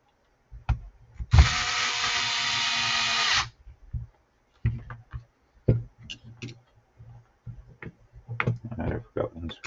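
A power driver runs one steady two-second burst while driving short screws into an HB D4 Evo3 RC car chassis. Light tool clicks and small handling taps follow, close up.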